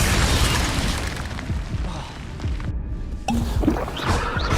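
Confringo spell explosions go off during a duel in the video game Hogwarts Legacy, giving loud booming bursts and rumbling blasts, with a sharper burst near the end, heard without talk.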